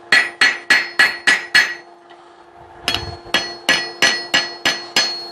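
Sharp metallic hammer blows on hot steel over an anvil ring out in a steady rhythm, a brief pause, then another even series of strikes, close and loud, while forging a hammer eye punch.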